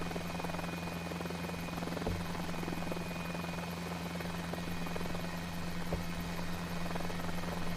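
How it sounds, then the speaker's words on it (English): Miniaturized single-seat MD-500 helicopter in a flight game, a continuous close rotor drone with a steady low buzzing hum and high whine, unbroken throughout. "it's basically just a miniaturized single-seat MD-500"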